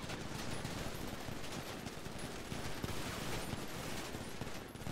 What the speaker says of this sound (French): Ils ont tiré, tiré, tiré.